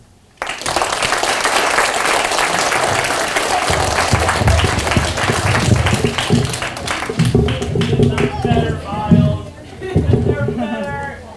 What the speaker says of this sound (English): It feels weird to applaud for a heartbreak story, doesn't it?